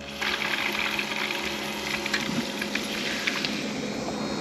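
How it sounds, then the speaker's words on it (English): Steady motor drone of a water pump running at the beach to fill a bucket for washing dishes, loud and continuous with a faint watery rush throughout, no voices. "We turn the pump on. You can probably hear it."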